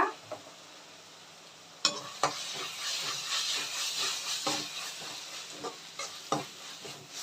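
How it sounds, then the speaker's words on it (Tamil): Onions sauté in a pan with ginger-garlic paste, giving a steady, loud sizzle and hiss. Occasional sharp scrapes and knocks come from stirring, and there is no talk. "இப்போ வதங்கட்டும் வெங்காயம் பாதி வதங்கினோன்னே இஞ்சி பூண்டு பேஸ்ட்டு ஒரு ரெண்டு ஸ்பூன் போட்டுக்கோங்க"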